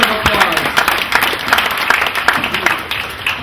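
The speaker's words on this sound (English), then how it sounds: "Give yourselves a round of applause." A crowd at an outdoor homecoming Tea Party rally applauds, with lively, uneven clapping that sounds close and fairly loud and carries on throughout.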